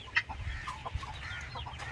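Chickens cluck in scattered short calls, fairly faint and at middle distance, over a steady low rumble outdoors.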